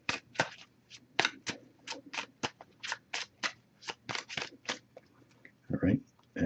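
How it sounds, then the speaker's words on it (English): Repeated crisp riffling bursts of an oracle card deck being shuffled, about a dozen quick sharp flurries in irregular rhythm, close up, with a short voice near the end. "I'm just going to give this a few more shuffles."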